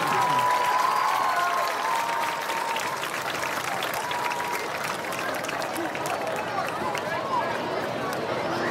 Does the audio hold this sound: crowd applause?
yes